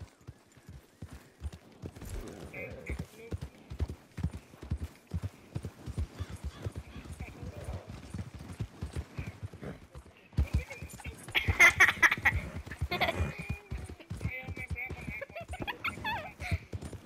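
Horse hooves clip-clopping at an uneven walking rhythm in Red Dead Redemption 2, joined by a brief neigh and louder hoofbeats near the end, with people talking and laughing over the game sound.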